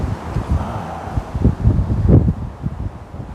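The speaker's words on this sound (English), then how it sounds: "That's how windy it is" Gusty wind blows across reeds at an outdoor fishing spot, a rough, buffeting rush with low microphone rumble that swells and surges for a few seconds, loudest near the middle.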